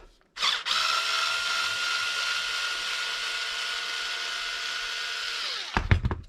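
A power drill runs in one steady sustained burst while backing out screws on a Traxxas X-MAXX 8S RC car, close and loud, with a short whir of spin-up at the start and clatter as it stops.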